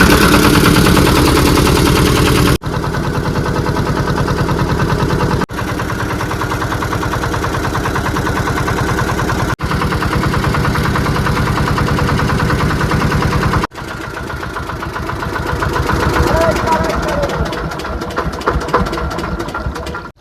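A small boat engine on a Sundarbans river starts and settles into a loud, rapid, chugging idle, close by and steady, with a few abrupt breaks in the sound.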